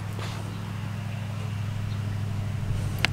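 A vehicle pulls up outside, a low, steady engine hum that holds constant throughout, moderately distant, with no one speaking.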